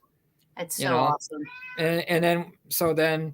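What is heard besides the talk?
cat meowing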